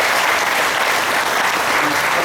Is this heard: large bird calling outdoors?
no